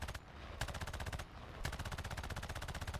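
Aircraft machine guns firing in a WWII flight combat video game with a Nakajima Ki-27 Otsu, rapid rattling bursts broken by short pauses, ending in a longer sustained burst, loud and close.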